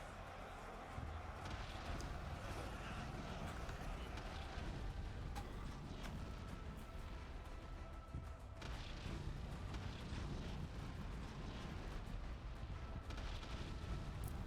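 In Ultimate Epic Battle Simulator, nuclear blasts go off in a continuous heavy rumble, with deep booms and cracking bursts rolling over one another through a chaotic wartime din.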